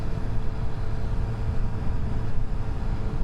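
A 2022 Triumph Street Triple RS Carbon Black motorcycle cruises along a road, producing a steady engine drone blended with rushing wind noise, without a break.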